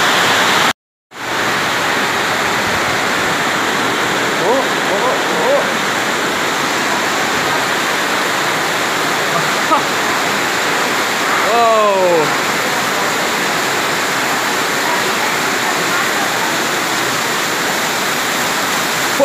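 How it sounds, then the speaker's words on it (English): Heavy rain pouring down in Lombok, Indonesia, a dense steady hiss with a brief dropout near the start. Faint voices sound beneath it now and then. "Oh man, another rainy day in Lombok."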